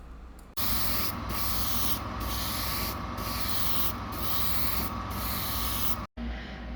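Thin coat of chrome spray paint applied from a spray can: a loud, close, continuous hiss broken by brief regular pauses about once a second, then cut off near the end.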